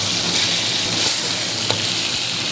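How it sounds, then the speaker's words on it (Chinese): Red-roe crabs are pan-fried in a thin layer of leftover oil in a wok, giving a steady, close, continuous sizzle and crackle with no voices. "锅里留底油，把螃蟹放下去煎一下"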